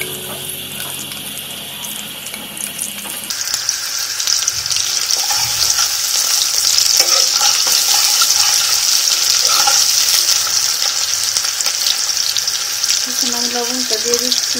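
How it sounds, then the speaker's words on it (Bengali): Onion and garlic dropped together into hot oil for dried loitta fish bhuna, a quiet start that bursts into a loud, steady hissing sizzle that holds to the end, with a few light clinks of a utensil. "গরম হয়ে গিয়েছে, এখন আমি পেঁয়াজ আর রসুন একসঙ্গে দিয়ে দিব।"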